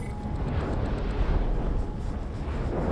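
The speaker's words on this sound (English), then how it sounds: "More explode!" A loud, sustained explosion rumbles in the video game AI: The Somnium Files, a dense roaring blast that fills the whole moment without letup.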